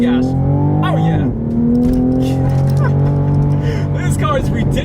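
A 2020 Toyota GR Supra's engine revs hard and climbs through a gear change, rising again in pitch, loud and close from the cabin, with a man exclaiming over it.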